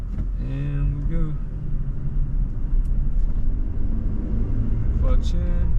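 Toyota Tacoma manual pickup engine pulling and revving up through the gears, a steady close rumble with rising engine tones, the driver talking over it.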